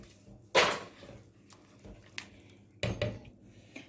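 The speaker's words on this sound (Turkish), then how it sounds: "Şekerle güzelce bir özleşsin istiyorum. Şöyle karıştırıyorum." A spoon stirs sugar in a pot while making oven-baked Turkish rice pudding (sütlaç). Two loud scraping, clinking strokes stand out, with quieter scrapes and taps between them and no talking.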